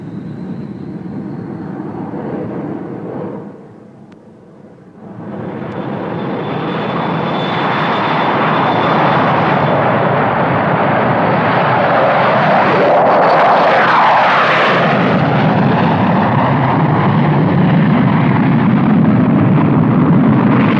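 A Royal Air Force Cold War jet taking off, its engines roaring up from a brief lull into a loud, sustained, powerful jet blast that builds and holds close by as the aircraft accelerates down the runway.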